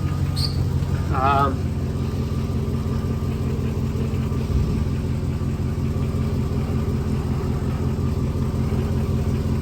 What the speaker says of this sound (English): it's also not idling super erratically, like it would hardly stay running before